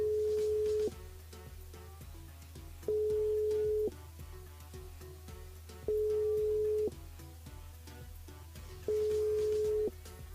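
A telephone line tone on a radio call-in, steady beeps about a second long repeating every three seconds over a low hum, with no talk.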